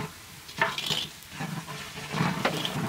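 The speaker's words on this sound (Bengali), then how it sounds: "মশলাটা ঘোনা হয়ে গেছে, এখন ছোলাটা দিয়ে দিলাম" Spices frying in a pot with onion, cinnamon, bay leaf, turmeric and chili powder, then chickpeas tipped in; steady sizzling and stirring scrapes with a few louder clatters near and close, no talk.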